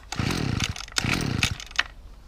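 Husqvarna 22R strimmer, a scrap find, being pull-started on choke: two short bursts of rapid engine-like chugging, each ending in a sharp clack, then a brief rattle, close and moderately loud without catching.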